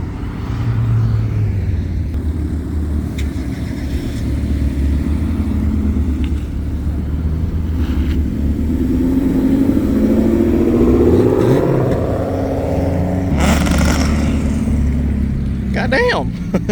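An Audi at a cars-and-coffee meet revs loudly, engine tone rising and swelling over several seconds with a brief sharp burst near the end, people talking over the roar.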